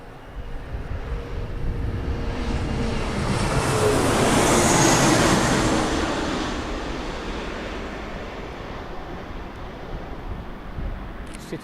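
A CityJet airliner flying Lufthansa's service in from Frankfurt passes over Birmingham Airport as a broad roar that swells to a peak midway, then slowly fades into the distance.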